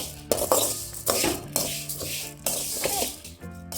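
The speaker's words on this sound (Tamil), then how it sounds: "அரிசி போட்டு வறுத்துக்கலாம். நல்லா சிம்மில் வச்சு நல்லா மணம் வர வறுத்துக்குங்க." Black kavuni rice roasted in a wok over a low flame, the spoon scraping and rattling against the metal in repeated strokes, loud and close, with faint sizzling underneath.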